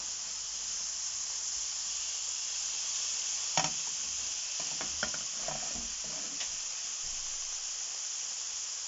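Halloumi cheese fries in oil in a pan with a low, steady sizzle, broken by a handful of sharper spits and scrapes midway through.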